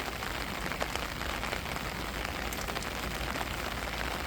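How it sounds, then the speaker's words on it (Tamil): A steady downpour keeps up a constant close hiss and patter of drops hitting the ground and nearby surfaces, heavy and unbroken, with no voices. "இங்கே நல்லா மழை அடித்து ஊற்றுது."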